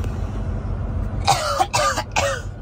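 Three harsh coughs in quick succession, close and fairly loud, over a steady low rumble of background noise.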